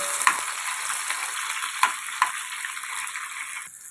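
Finely chopped tomatoes fry in hot oil with a continuous, close sizzle. A few sharp clicks of stirring break through the hiss, and no one speaks.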